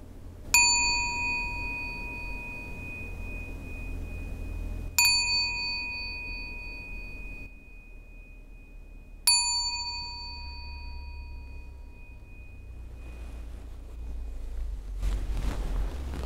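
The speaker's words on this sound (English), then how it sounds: "wait till the sound of the last gong before you come out of meditation" A meditation gong at a Buddhist metta meditation retreat is struck three times at slow, even intervals, each stroke ringing clearly and decaying over several seconds against quiet room tone.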